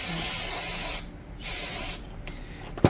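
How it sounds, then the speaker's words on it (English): Steady spraying hiss from an aerosol can of carburetor cleaner sprayed around a Holley carburetor's linkage, in two long bursts with a short pause between, close by, followed by a brief final spurt. "I'm going to just spray around the linkage"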